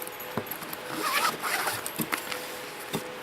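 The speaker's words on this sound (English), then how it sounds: "And another mesh zipper pouch." Zipper on a mesh pouch of a travel and survival organizer bag is pulled open in a close, scratchy run with a few sharp clicks and taps of the pull tab along the way.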